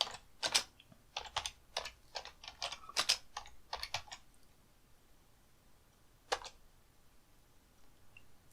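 Bursts of typing on a computer keyboard, a quick run of clicky keystrokes followed by a pause and one last isolated key press, close and fairly quiet with no talking.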